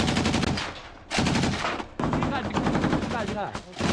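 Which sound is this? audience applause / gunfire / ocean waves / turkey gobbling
gunfire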